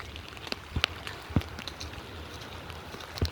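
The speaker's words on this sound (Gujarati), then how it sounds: "વરસાદ એવો પડ્યો છે ને મિત્રો, એ કે લિમિટ જ નથી" Heavy rain during a red-alert downpour patters steadily on surfaces, a soft, continuous hiss dotted with a few sharper drops and taps, heard alone without voices.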